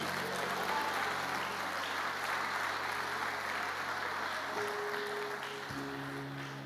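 Congregation applauding during a church service, a continuous broad wash of clapping held at an even level, with low sustained tones underneath.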